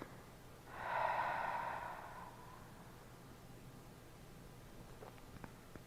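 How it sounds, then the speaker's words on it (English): One slow, deep breath during yoga relaxation, a soft airy exhale rising and fading over about a second, followed by quiet room tone with faint small sounds. "give me 5 deep breaths, relaxing the tension with each exhale"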